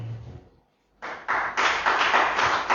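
A church congregation at an intensive prayer service breaks into applause after a brief quiet moment, the clapping starting sparse and quickly swelling into loud, steady crowd applause.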